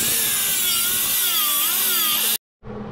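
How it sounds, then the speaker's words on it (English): A sanding disc grinds welds on a Toyota Tacoma frame with a loud, steady high-pitched whine that wavers slightly, then cuts off abruptly before resuming briefly. "get your sanding disc and clean up all the welds"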